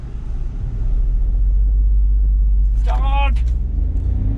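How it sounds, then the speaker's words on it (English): A 2021 Volkswagen Polo GT with a torque converter automatic accelerates hard from 0 to 100 km/h, its engine a loud steady rumble that holds throughout, while a voice calls out briefly over it. "0 to 100 km/h in Polo GT"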